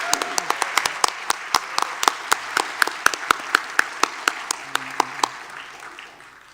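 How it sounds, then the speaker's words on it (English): Audience applause at a regional educators awards ceremony for award recipients returning to their seats, with a few loud, distinct claps standing out over dense clapping that fades toward the end. "Please give them all a round of applause as they go back to their seats."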